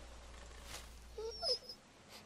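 A dog named Sam in The Walking Dead Season 2 video game gives a few soft whimpers and high whines, faint and brief, over a quiet low hum with no talk.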